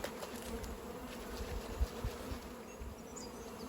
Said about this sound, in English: My God, this hive's got some bees.